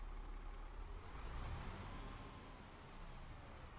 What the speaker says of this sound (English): So you can tell it's a diesel bus.